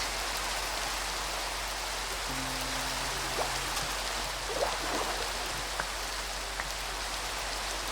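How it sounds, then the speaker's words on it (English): Steady rain in Minecraft patters evenly across the whole stretch, soft and constant, with a few faint higher plinks and a brief low tone partway through. "I really want this rain to just stop"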